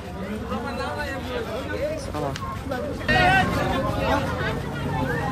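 A crowd chatters steadily at a bull race during a Kadav Kesari event, with a dense babble of many voices that grows somewhat louder partway through.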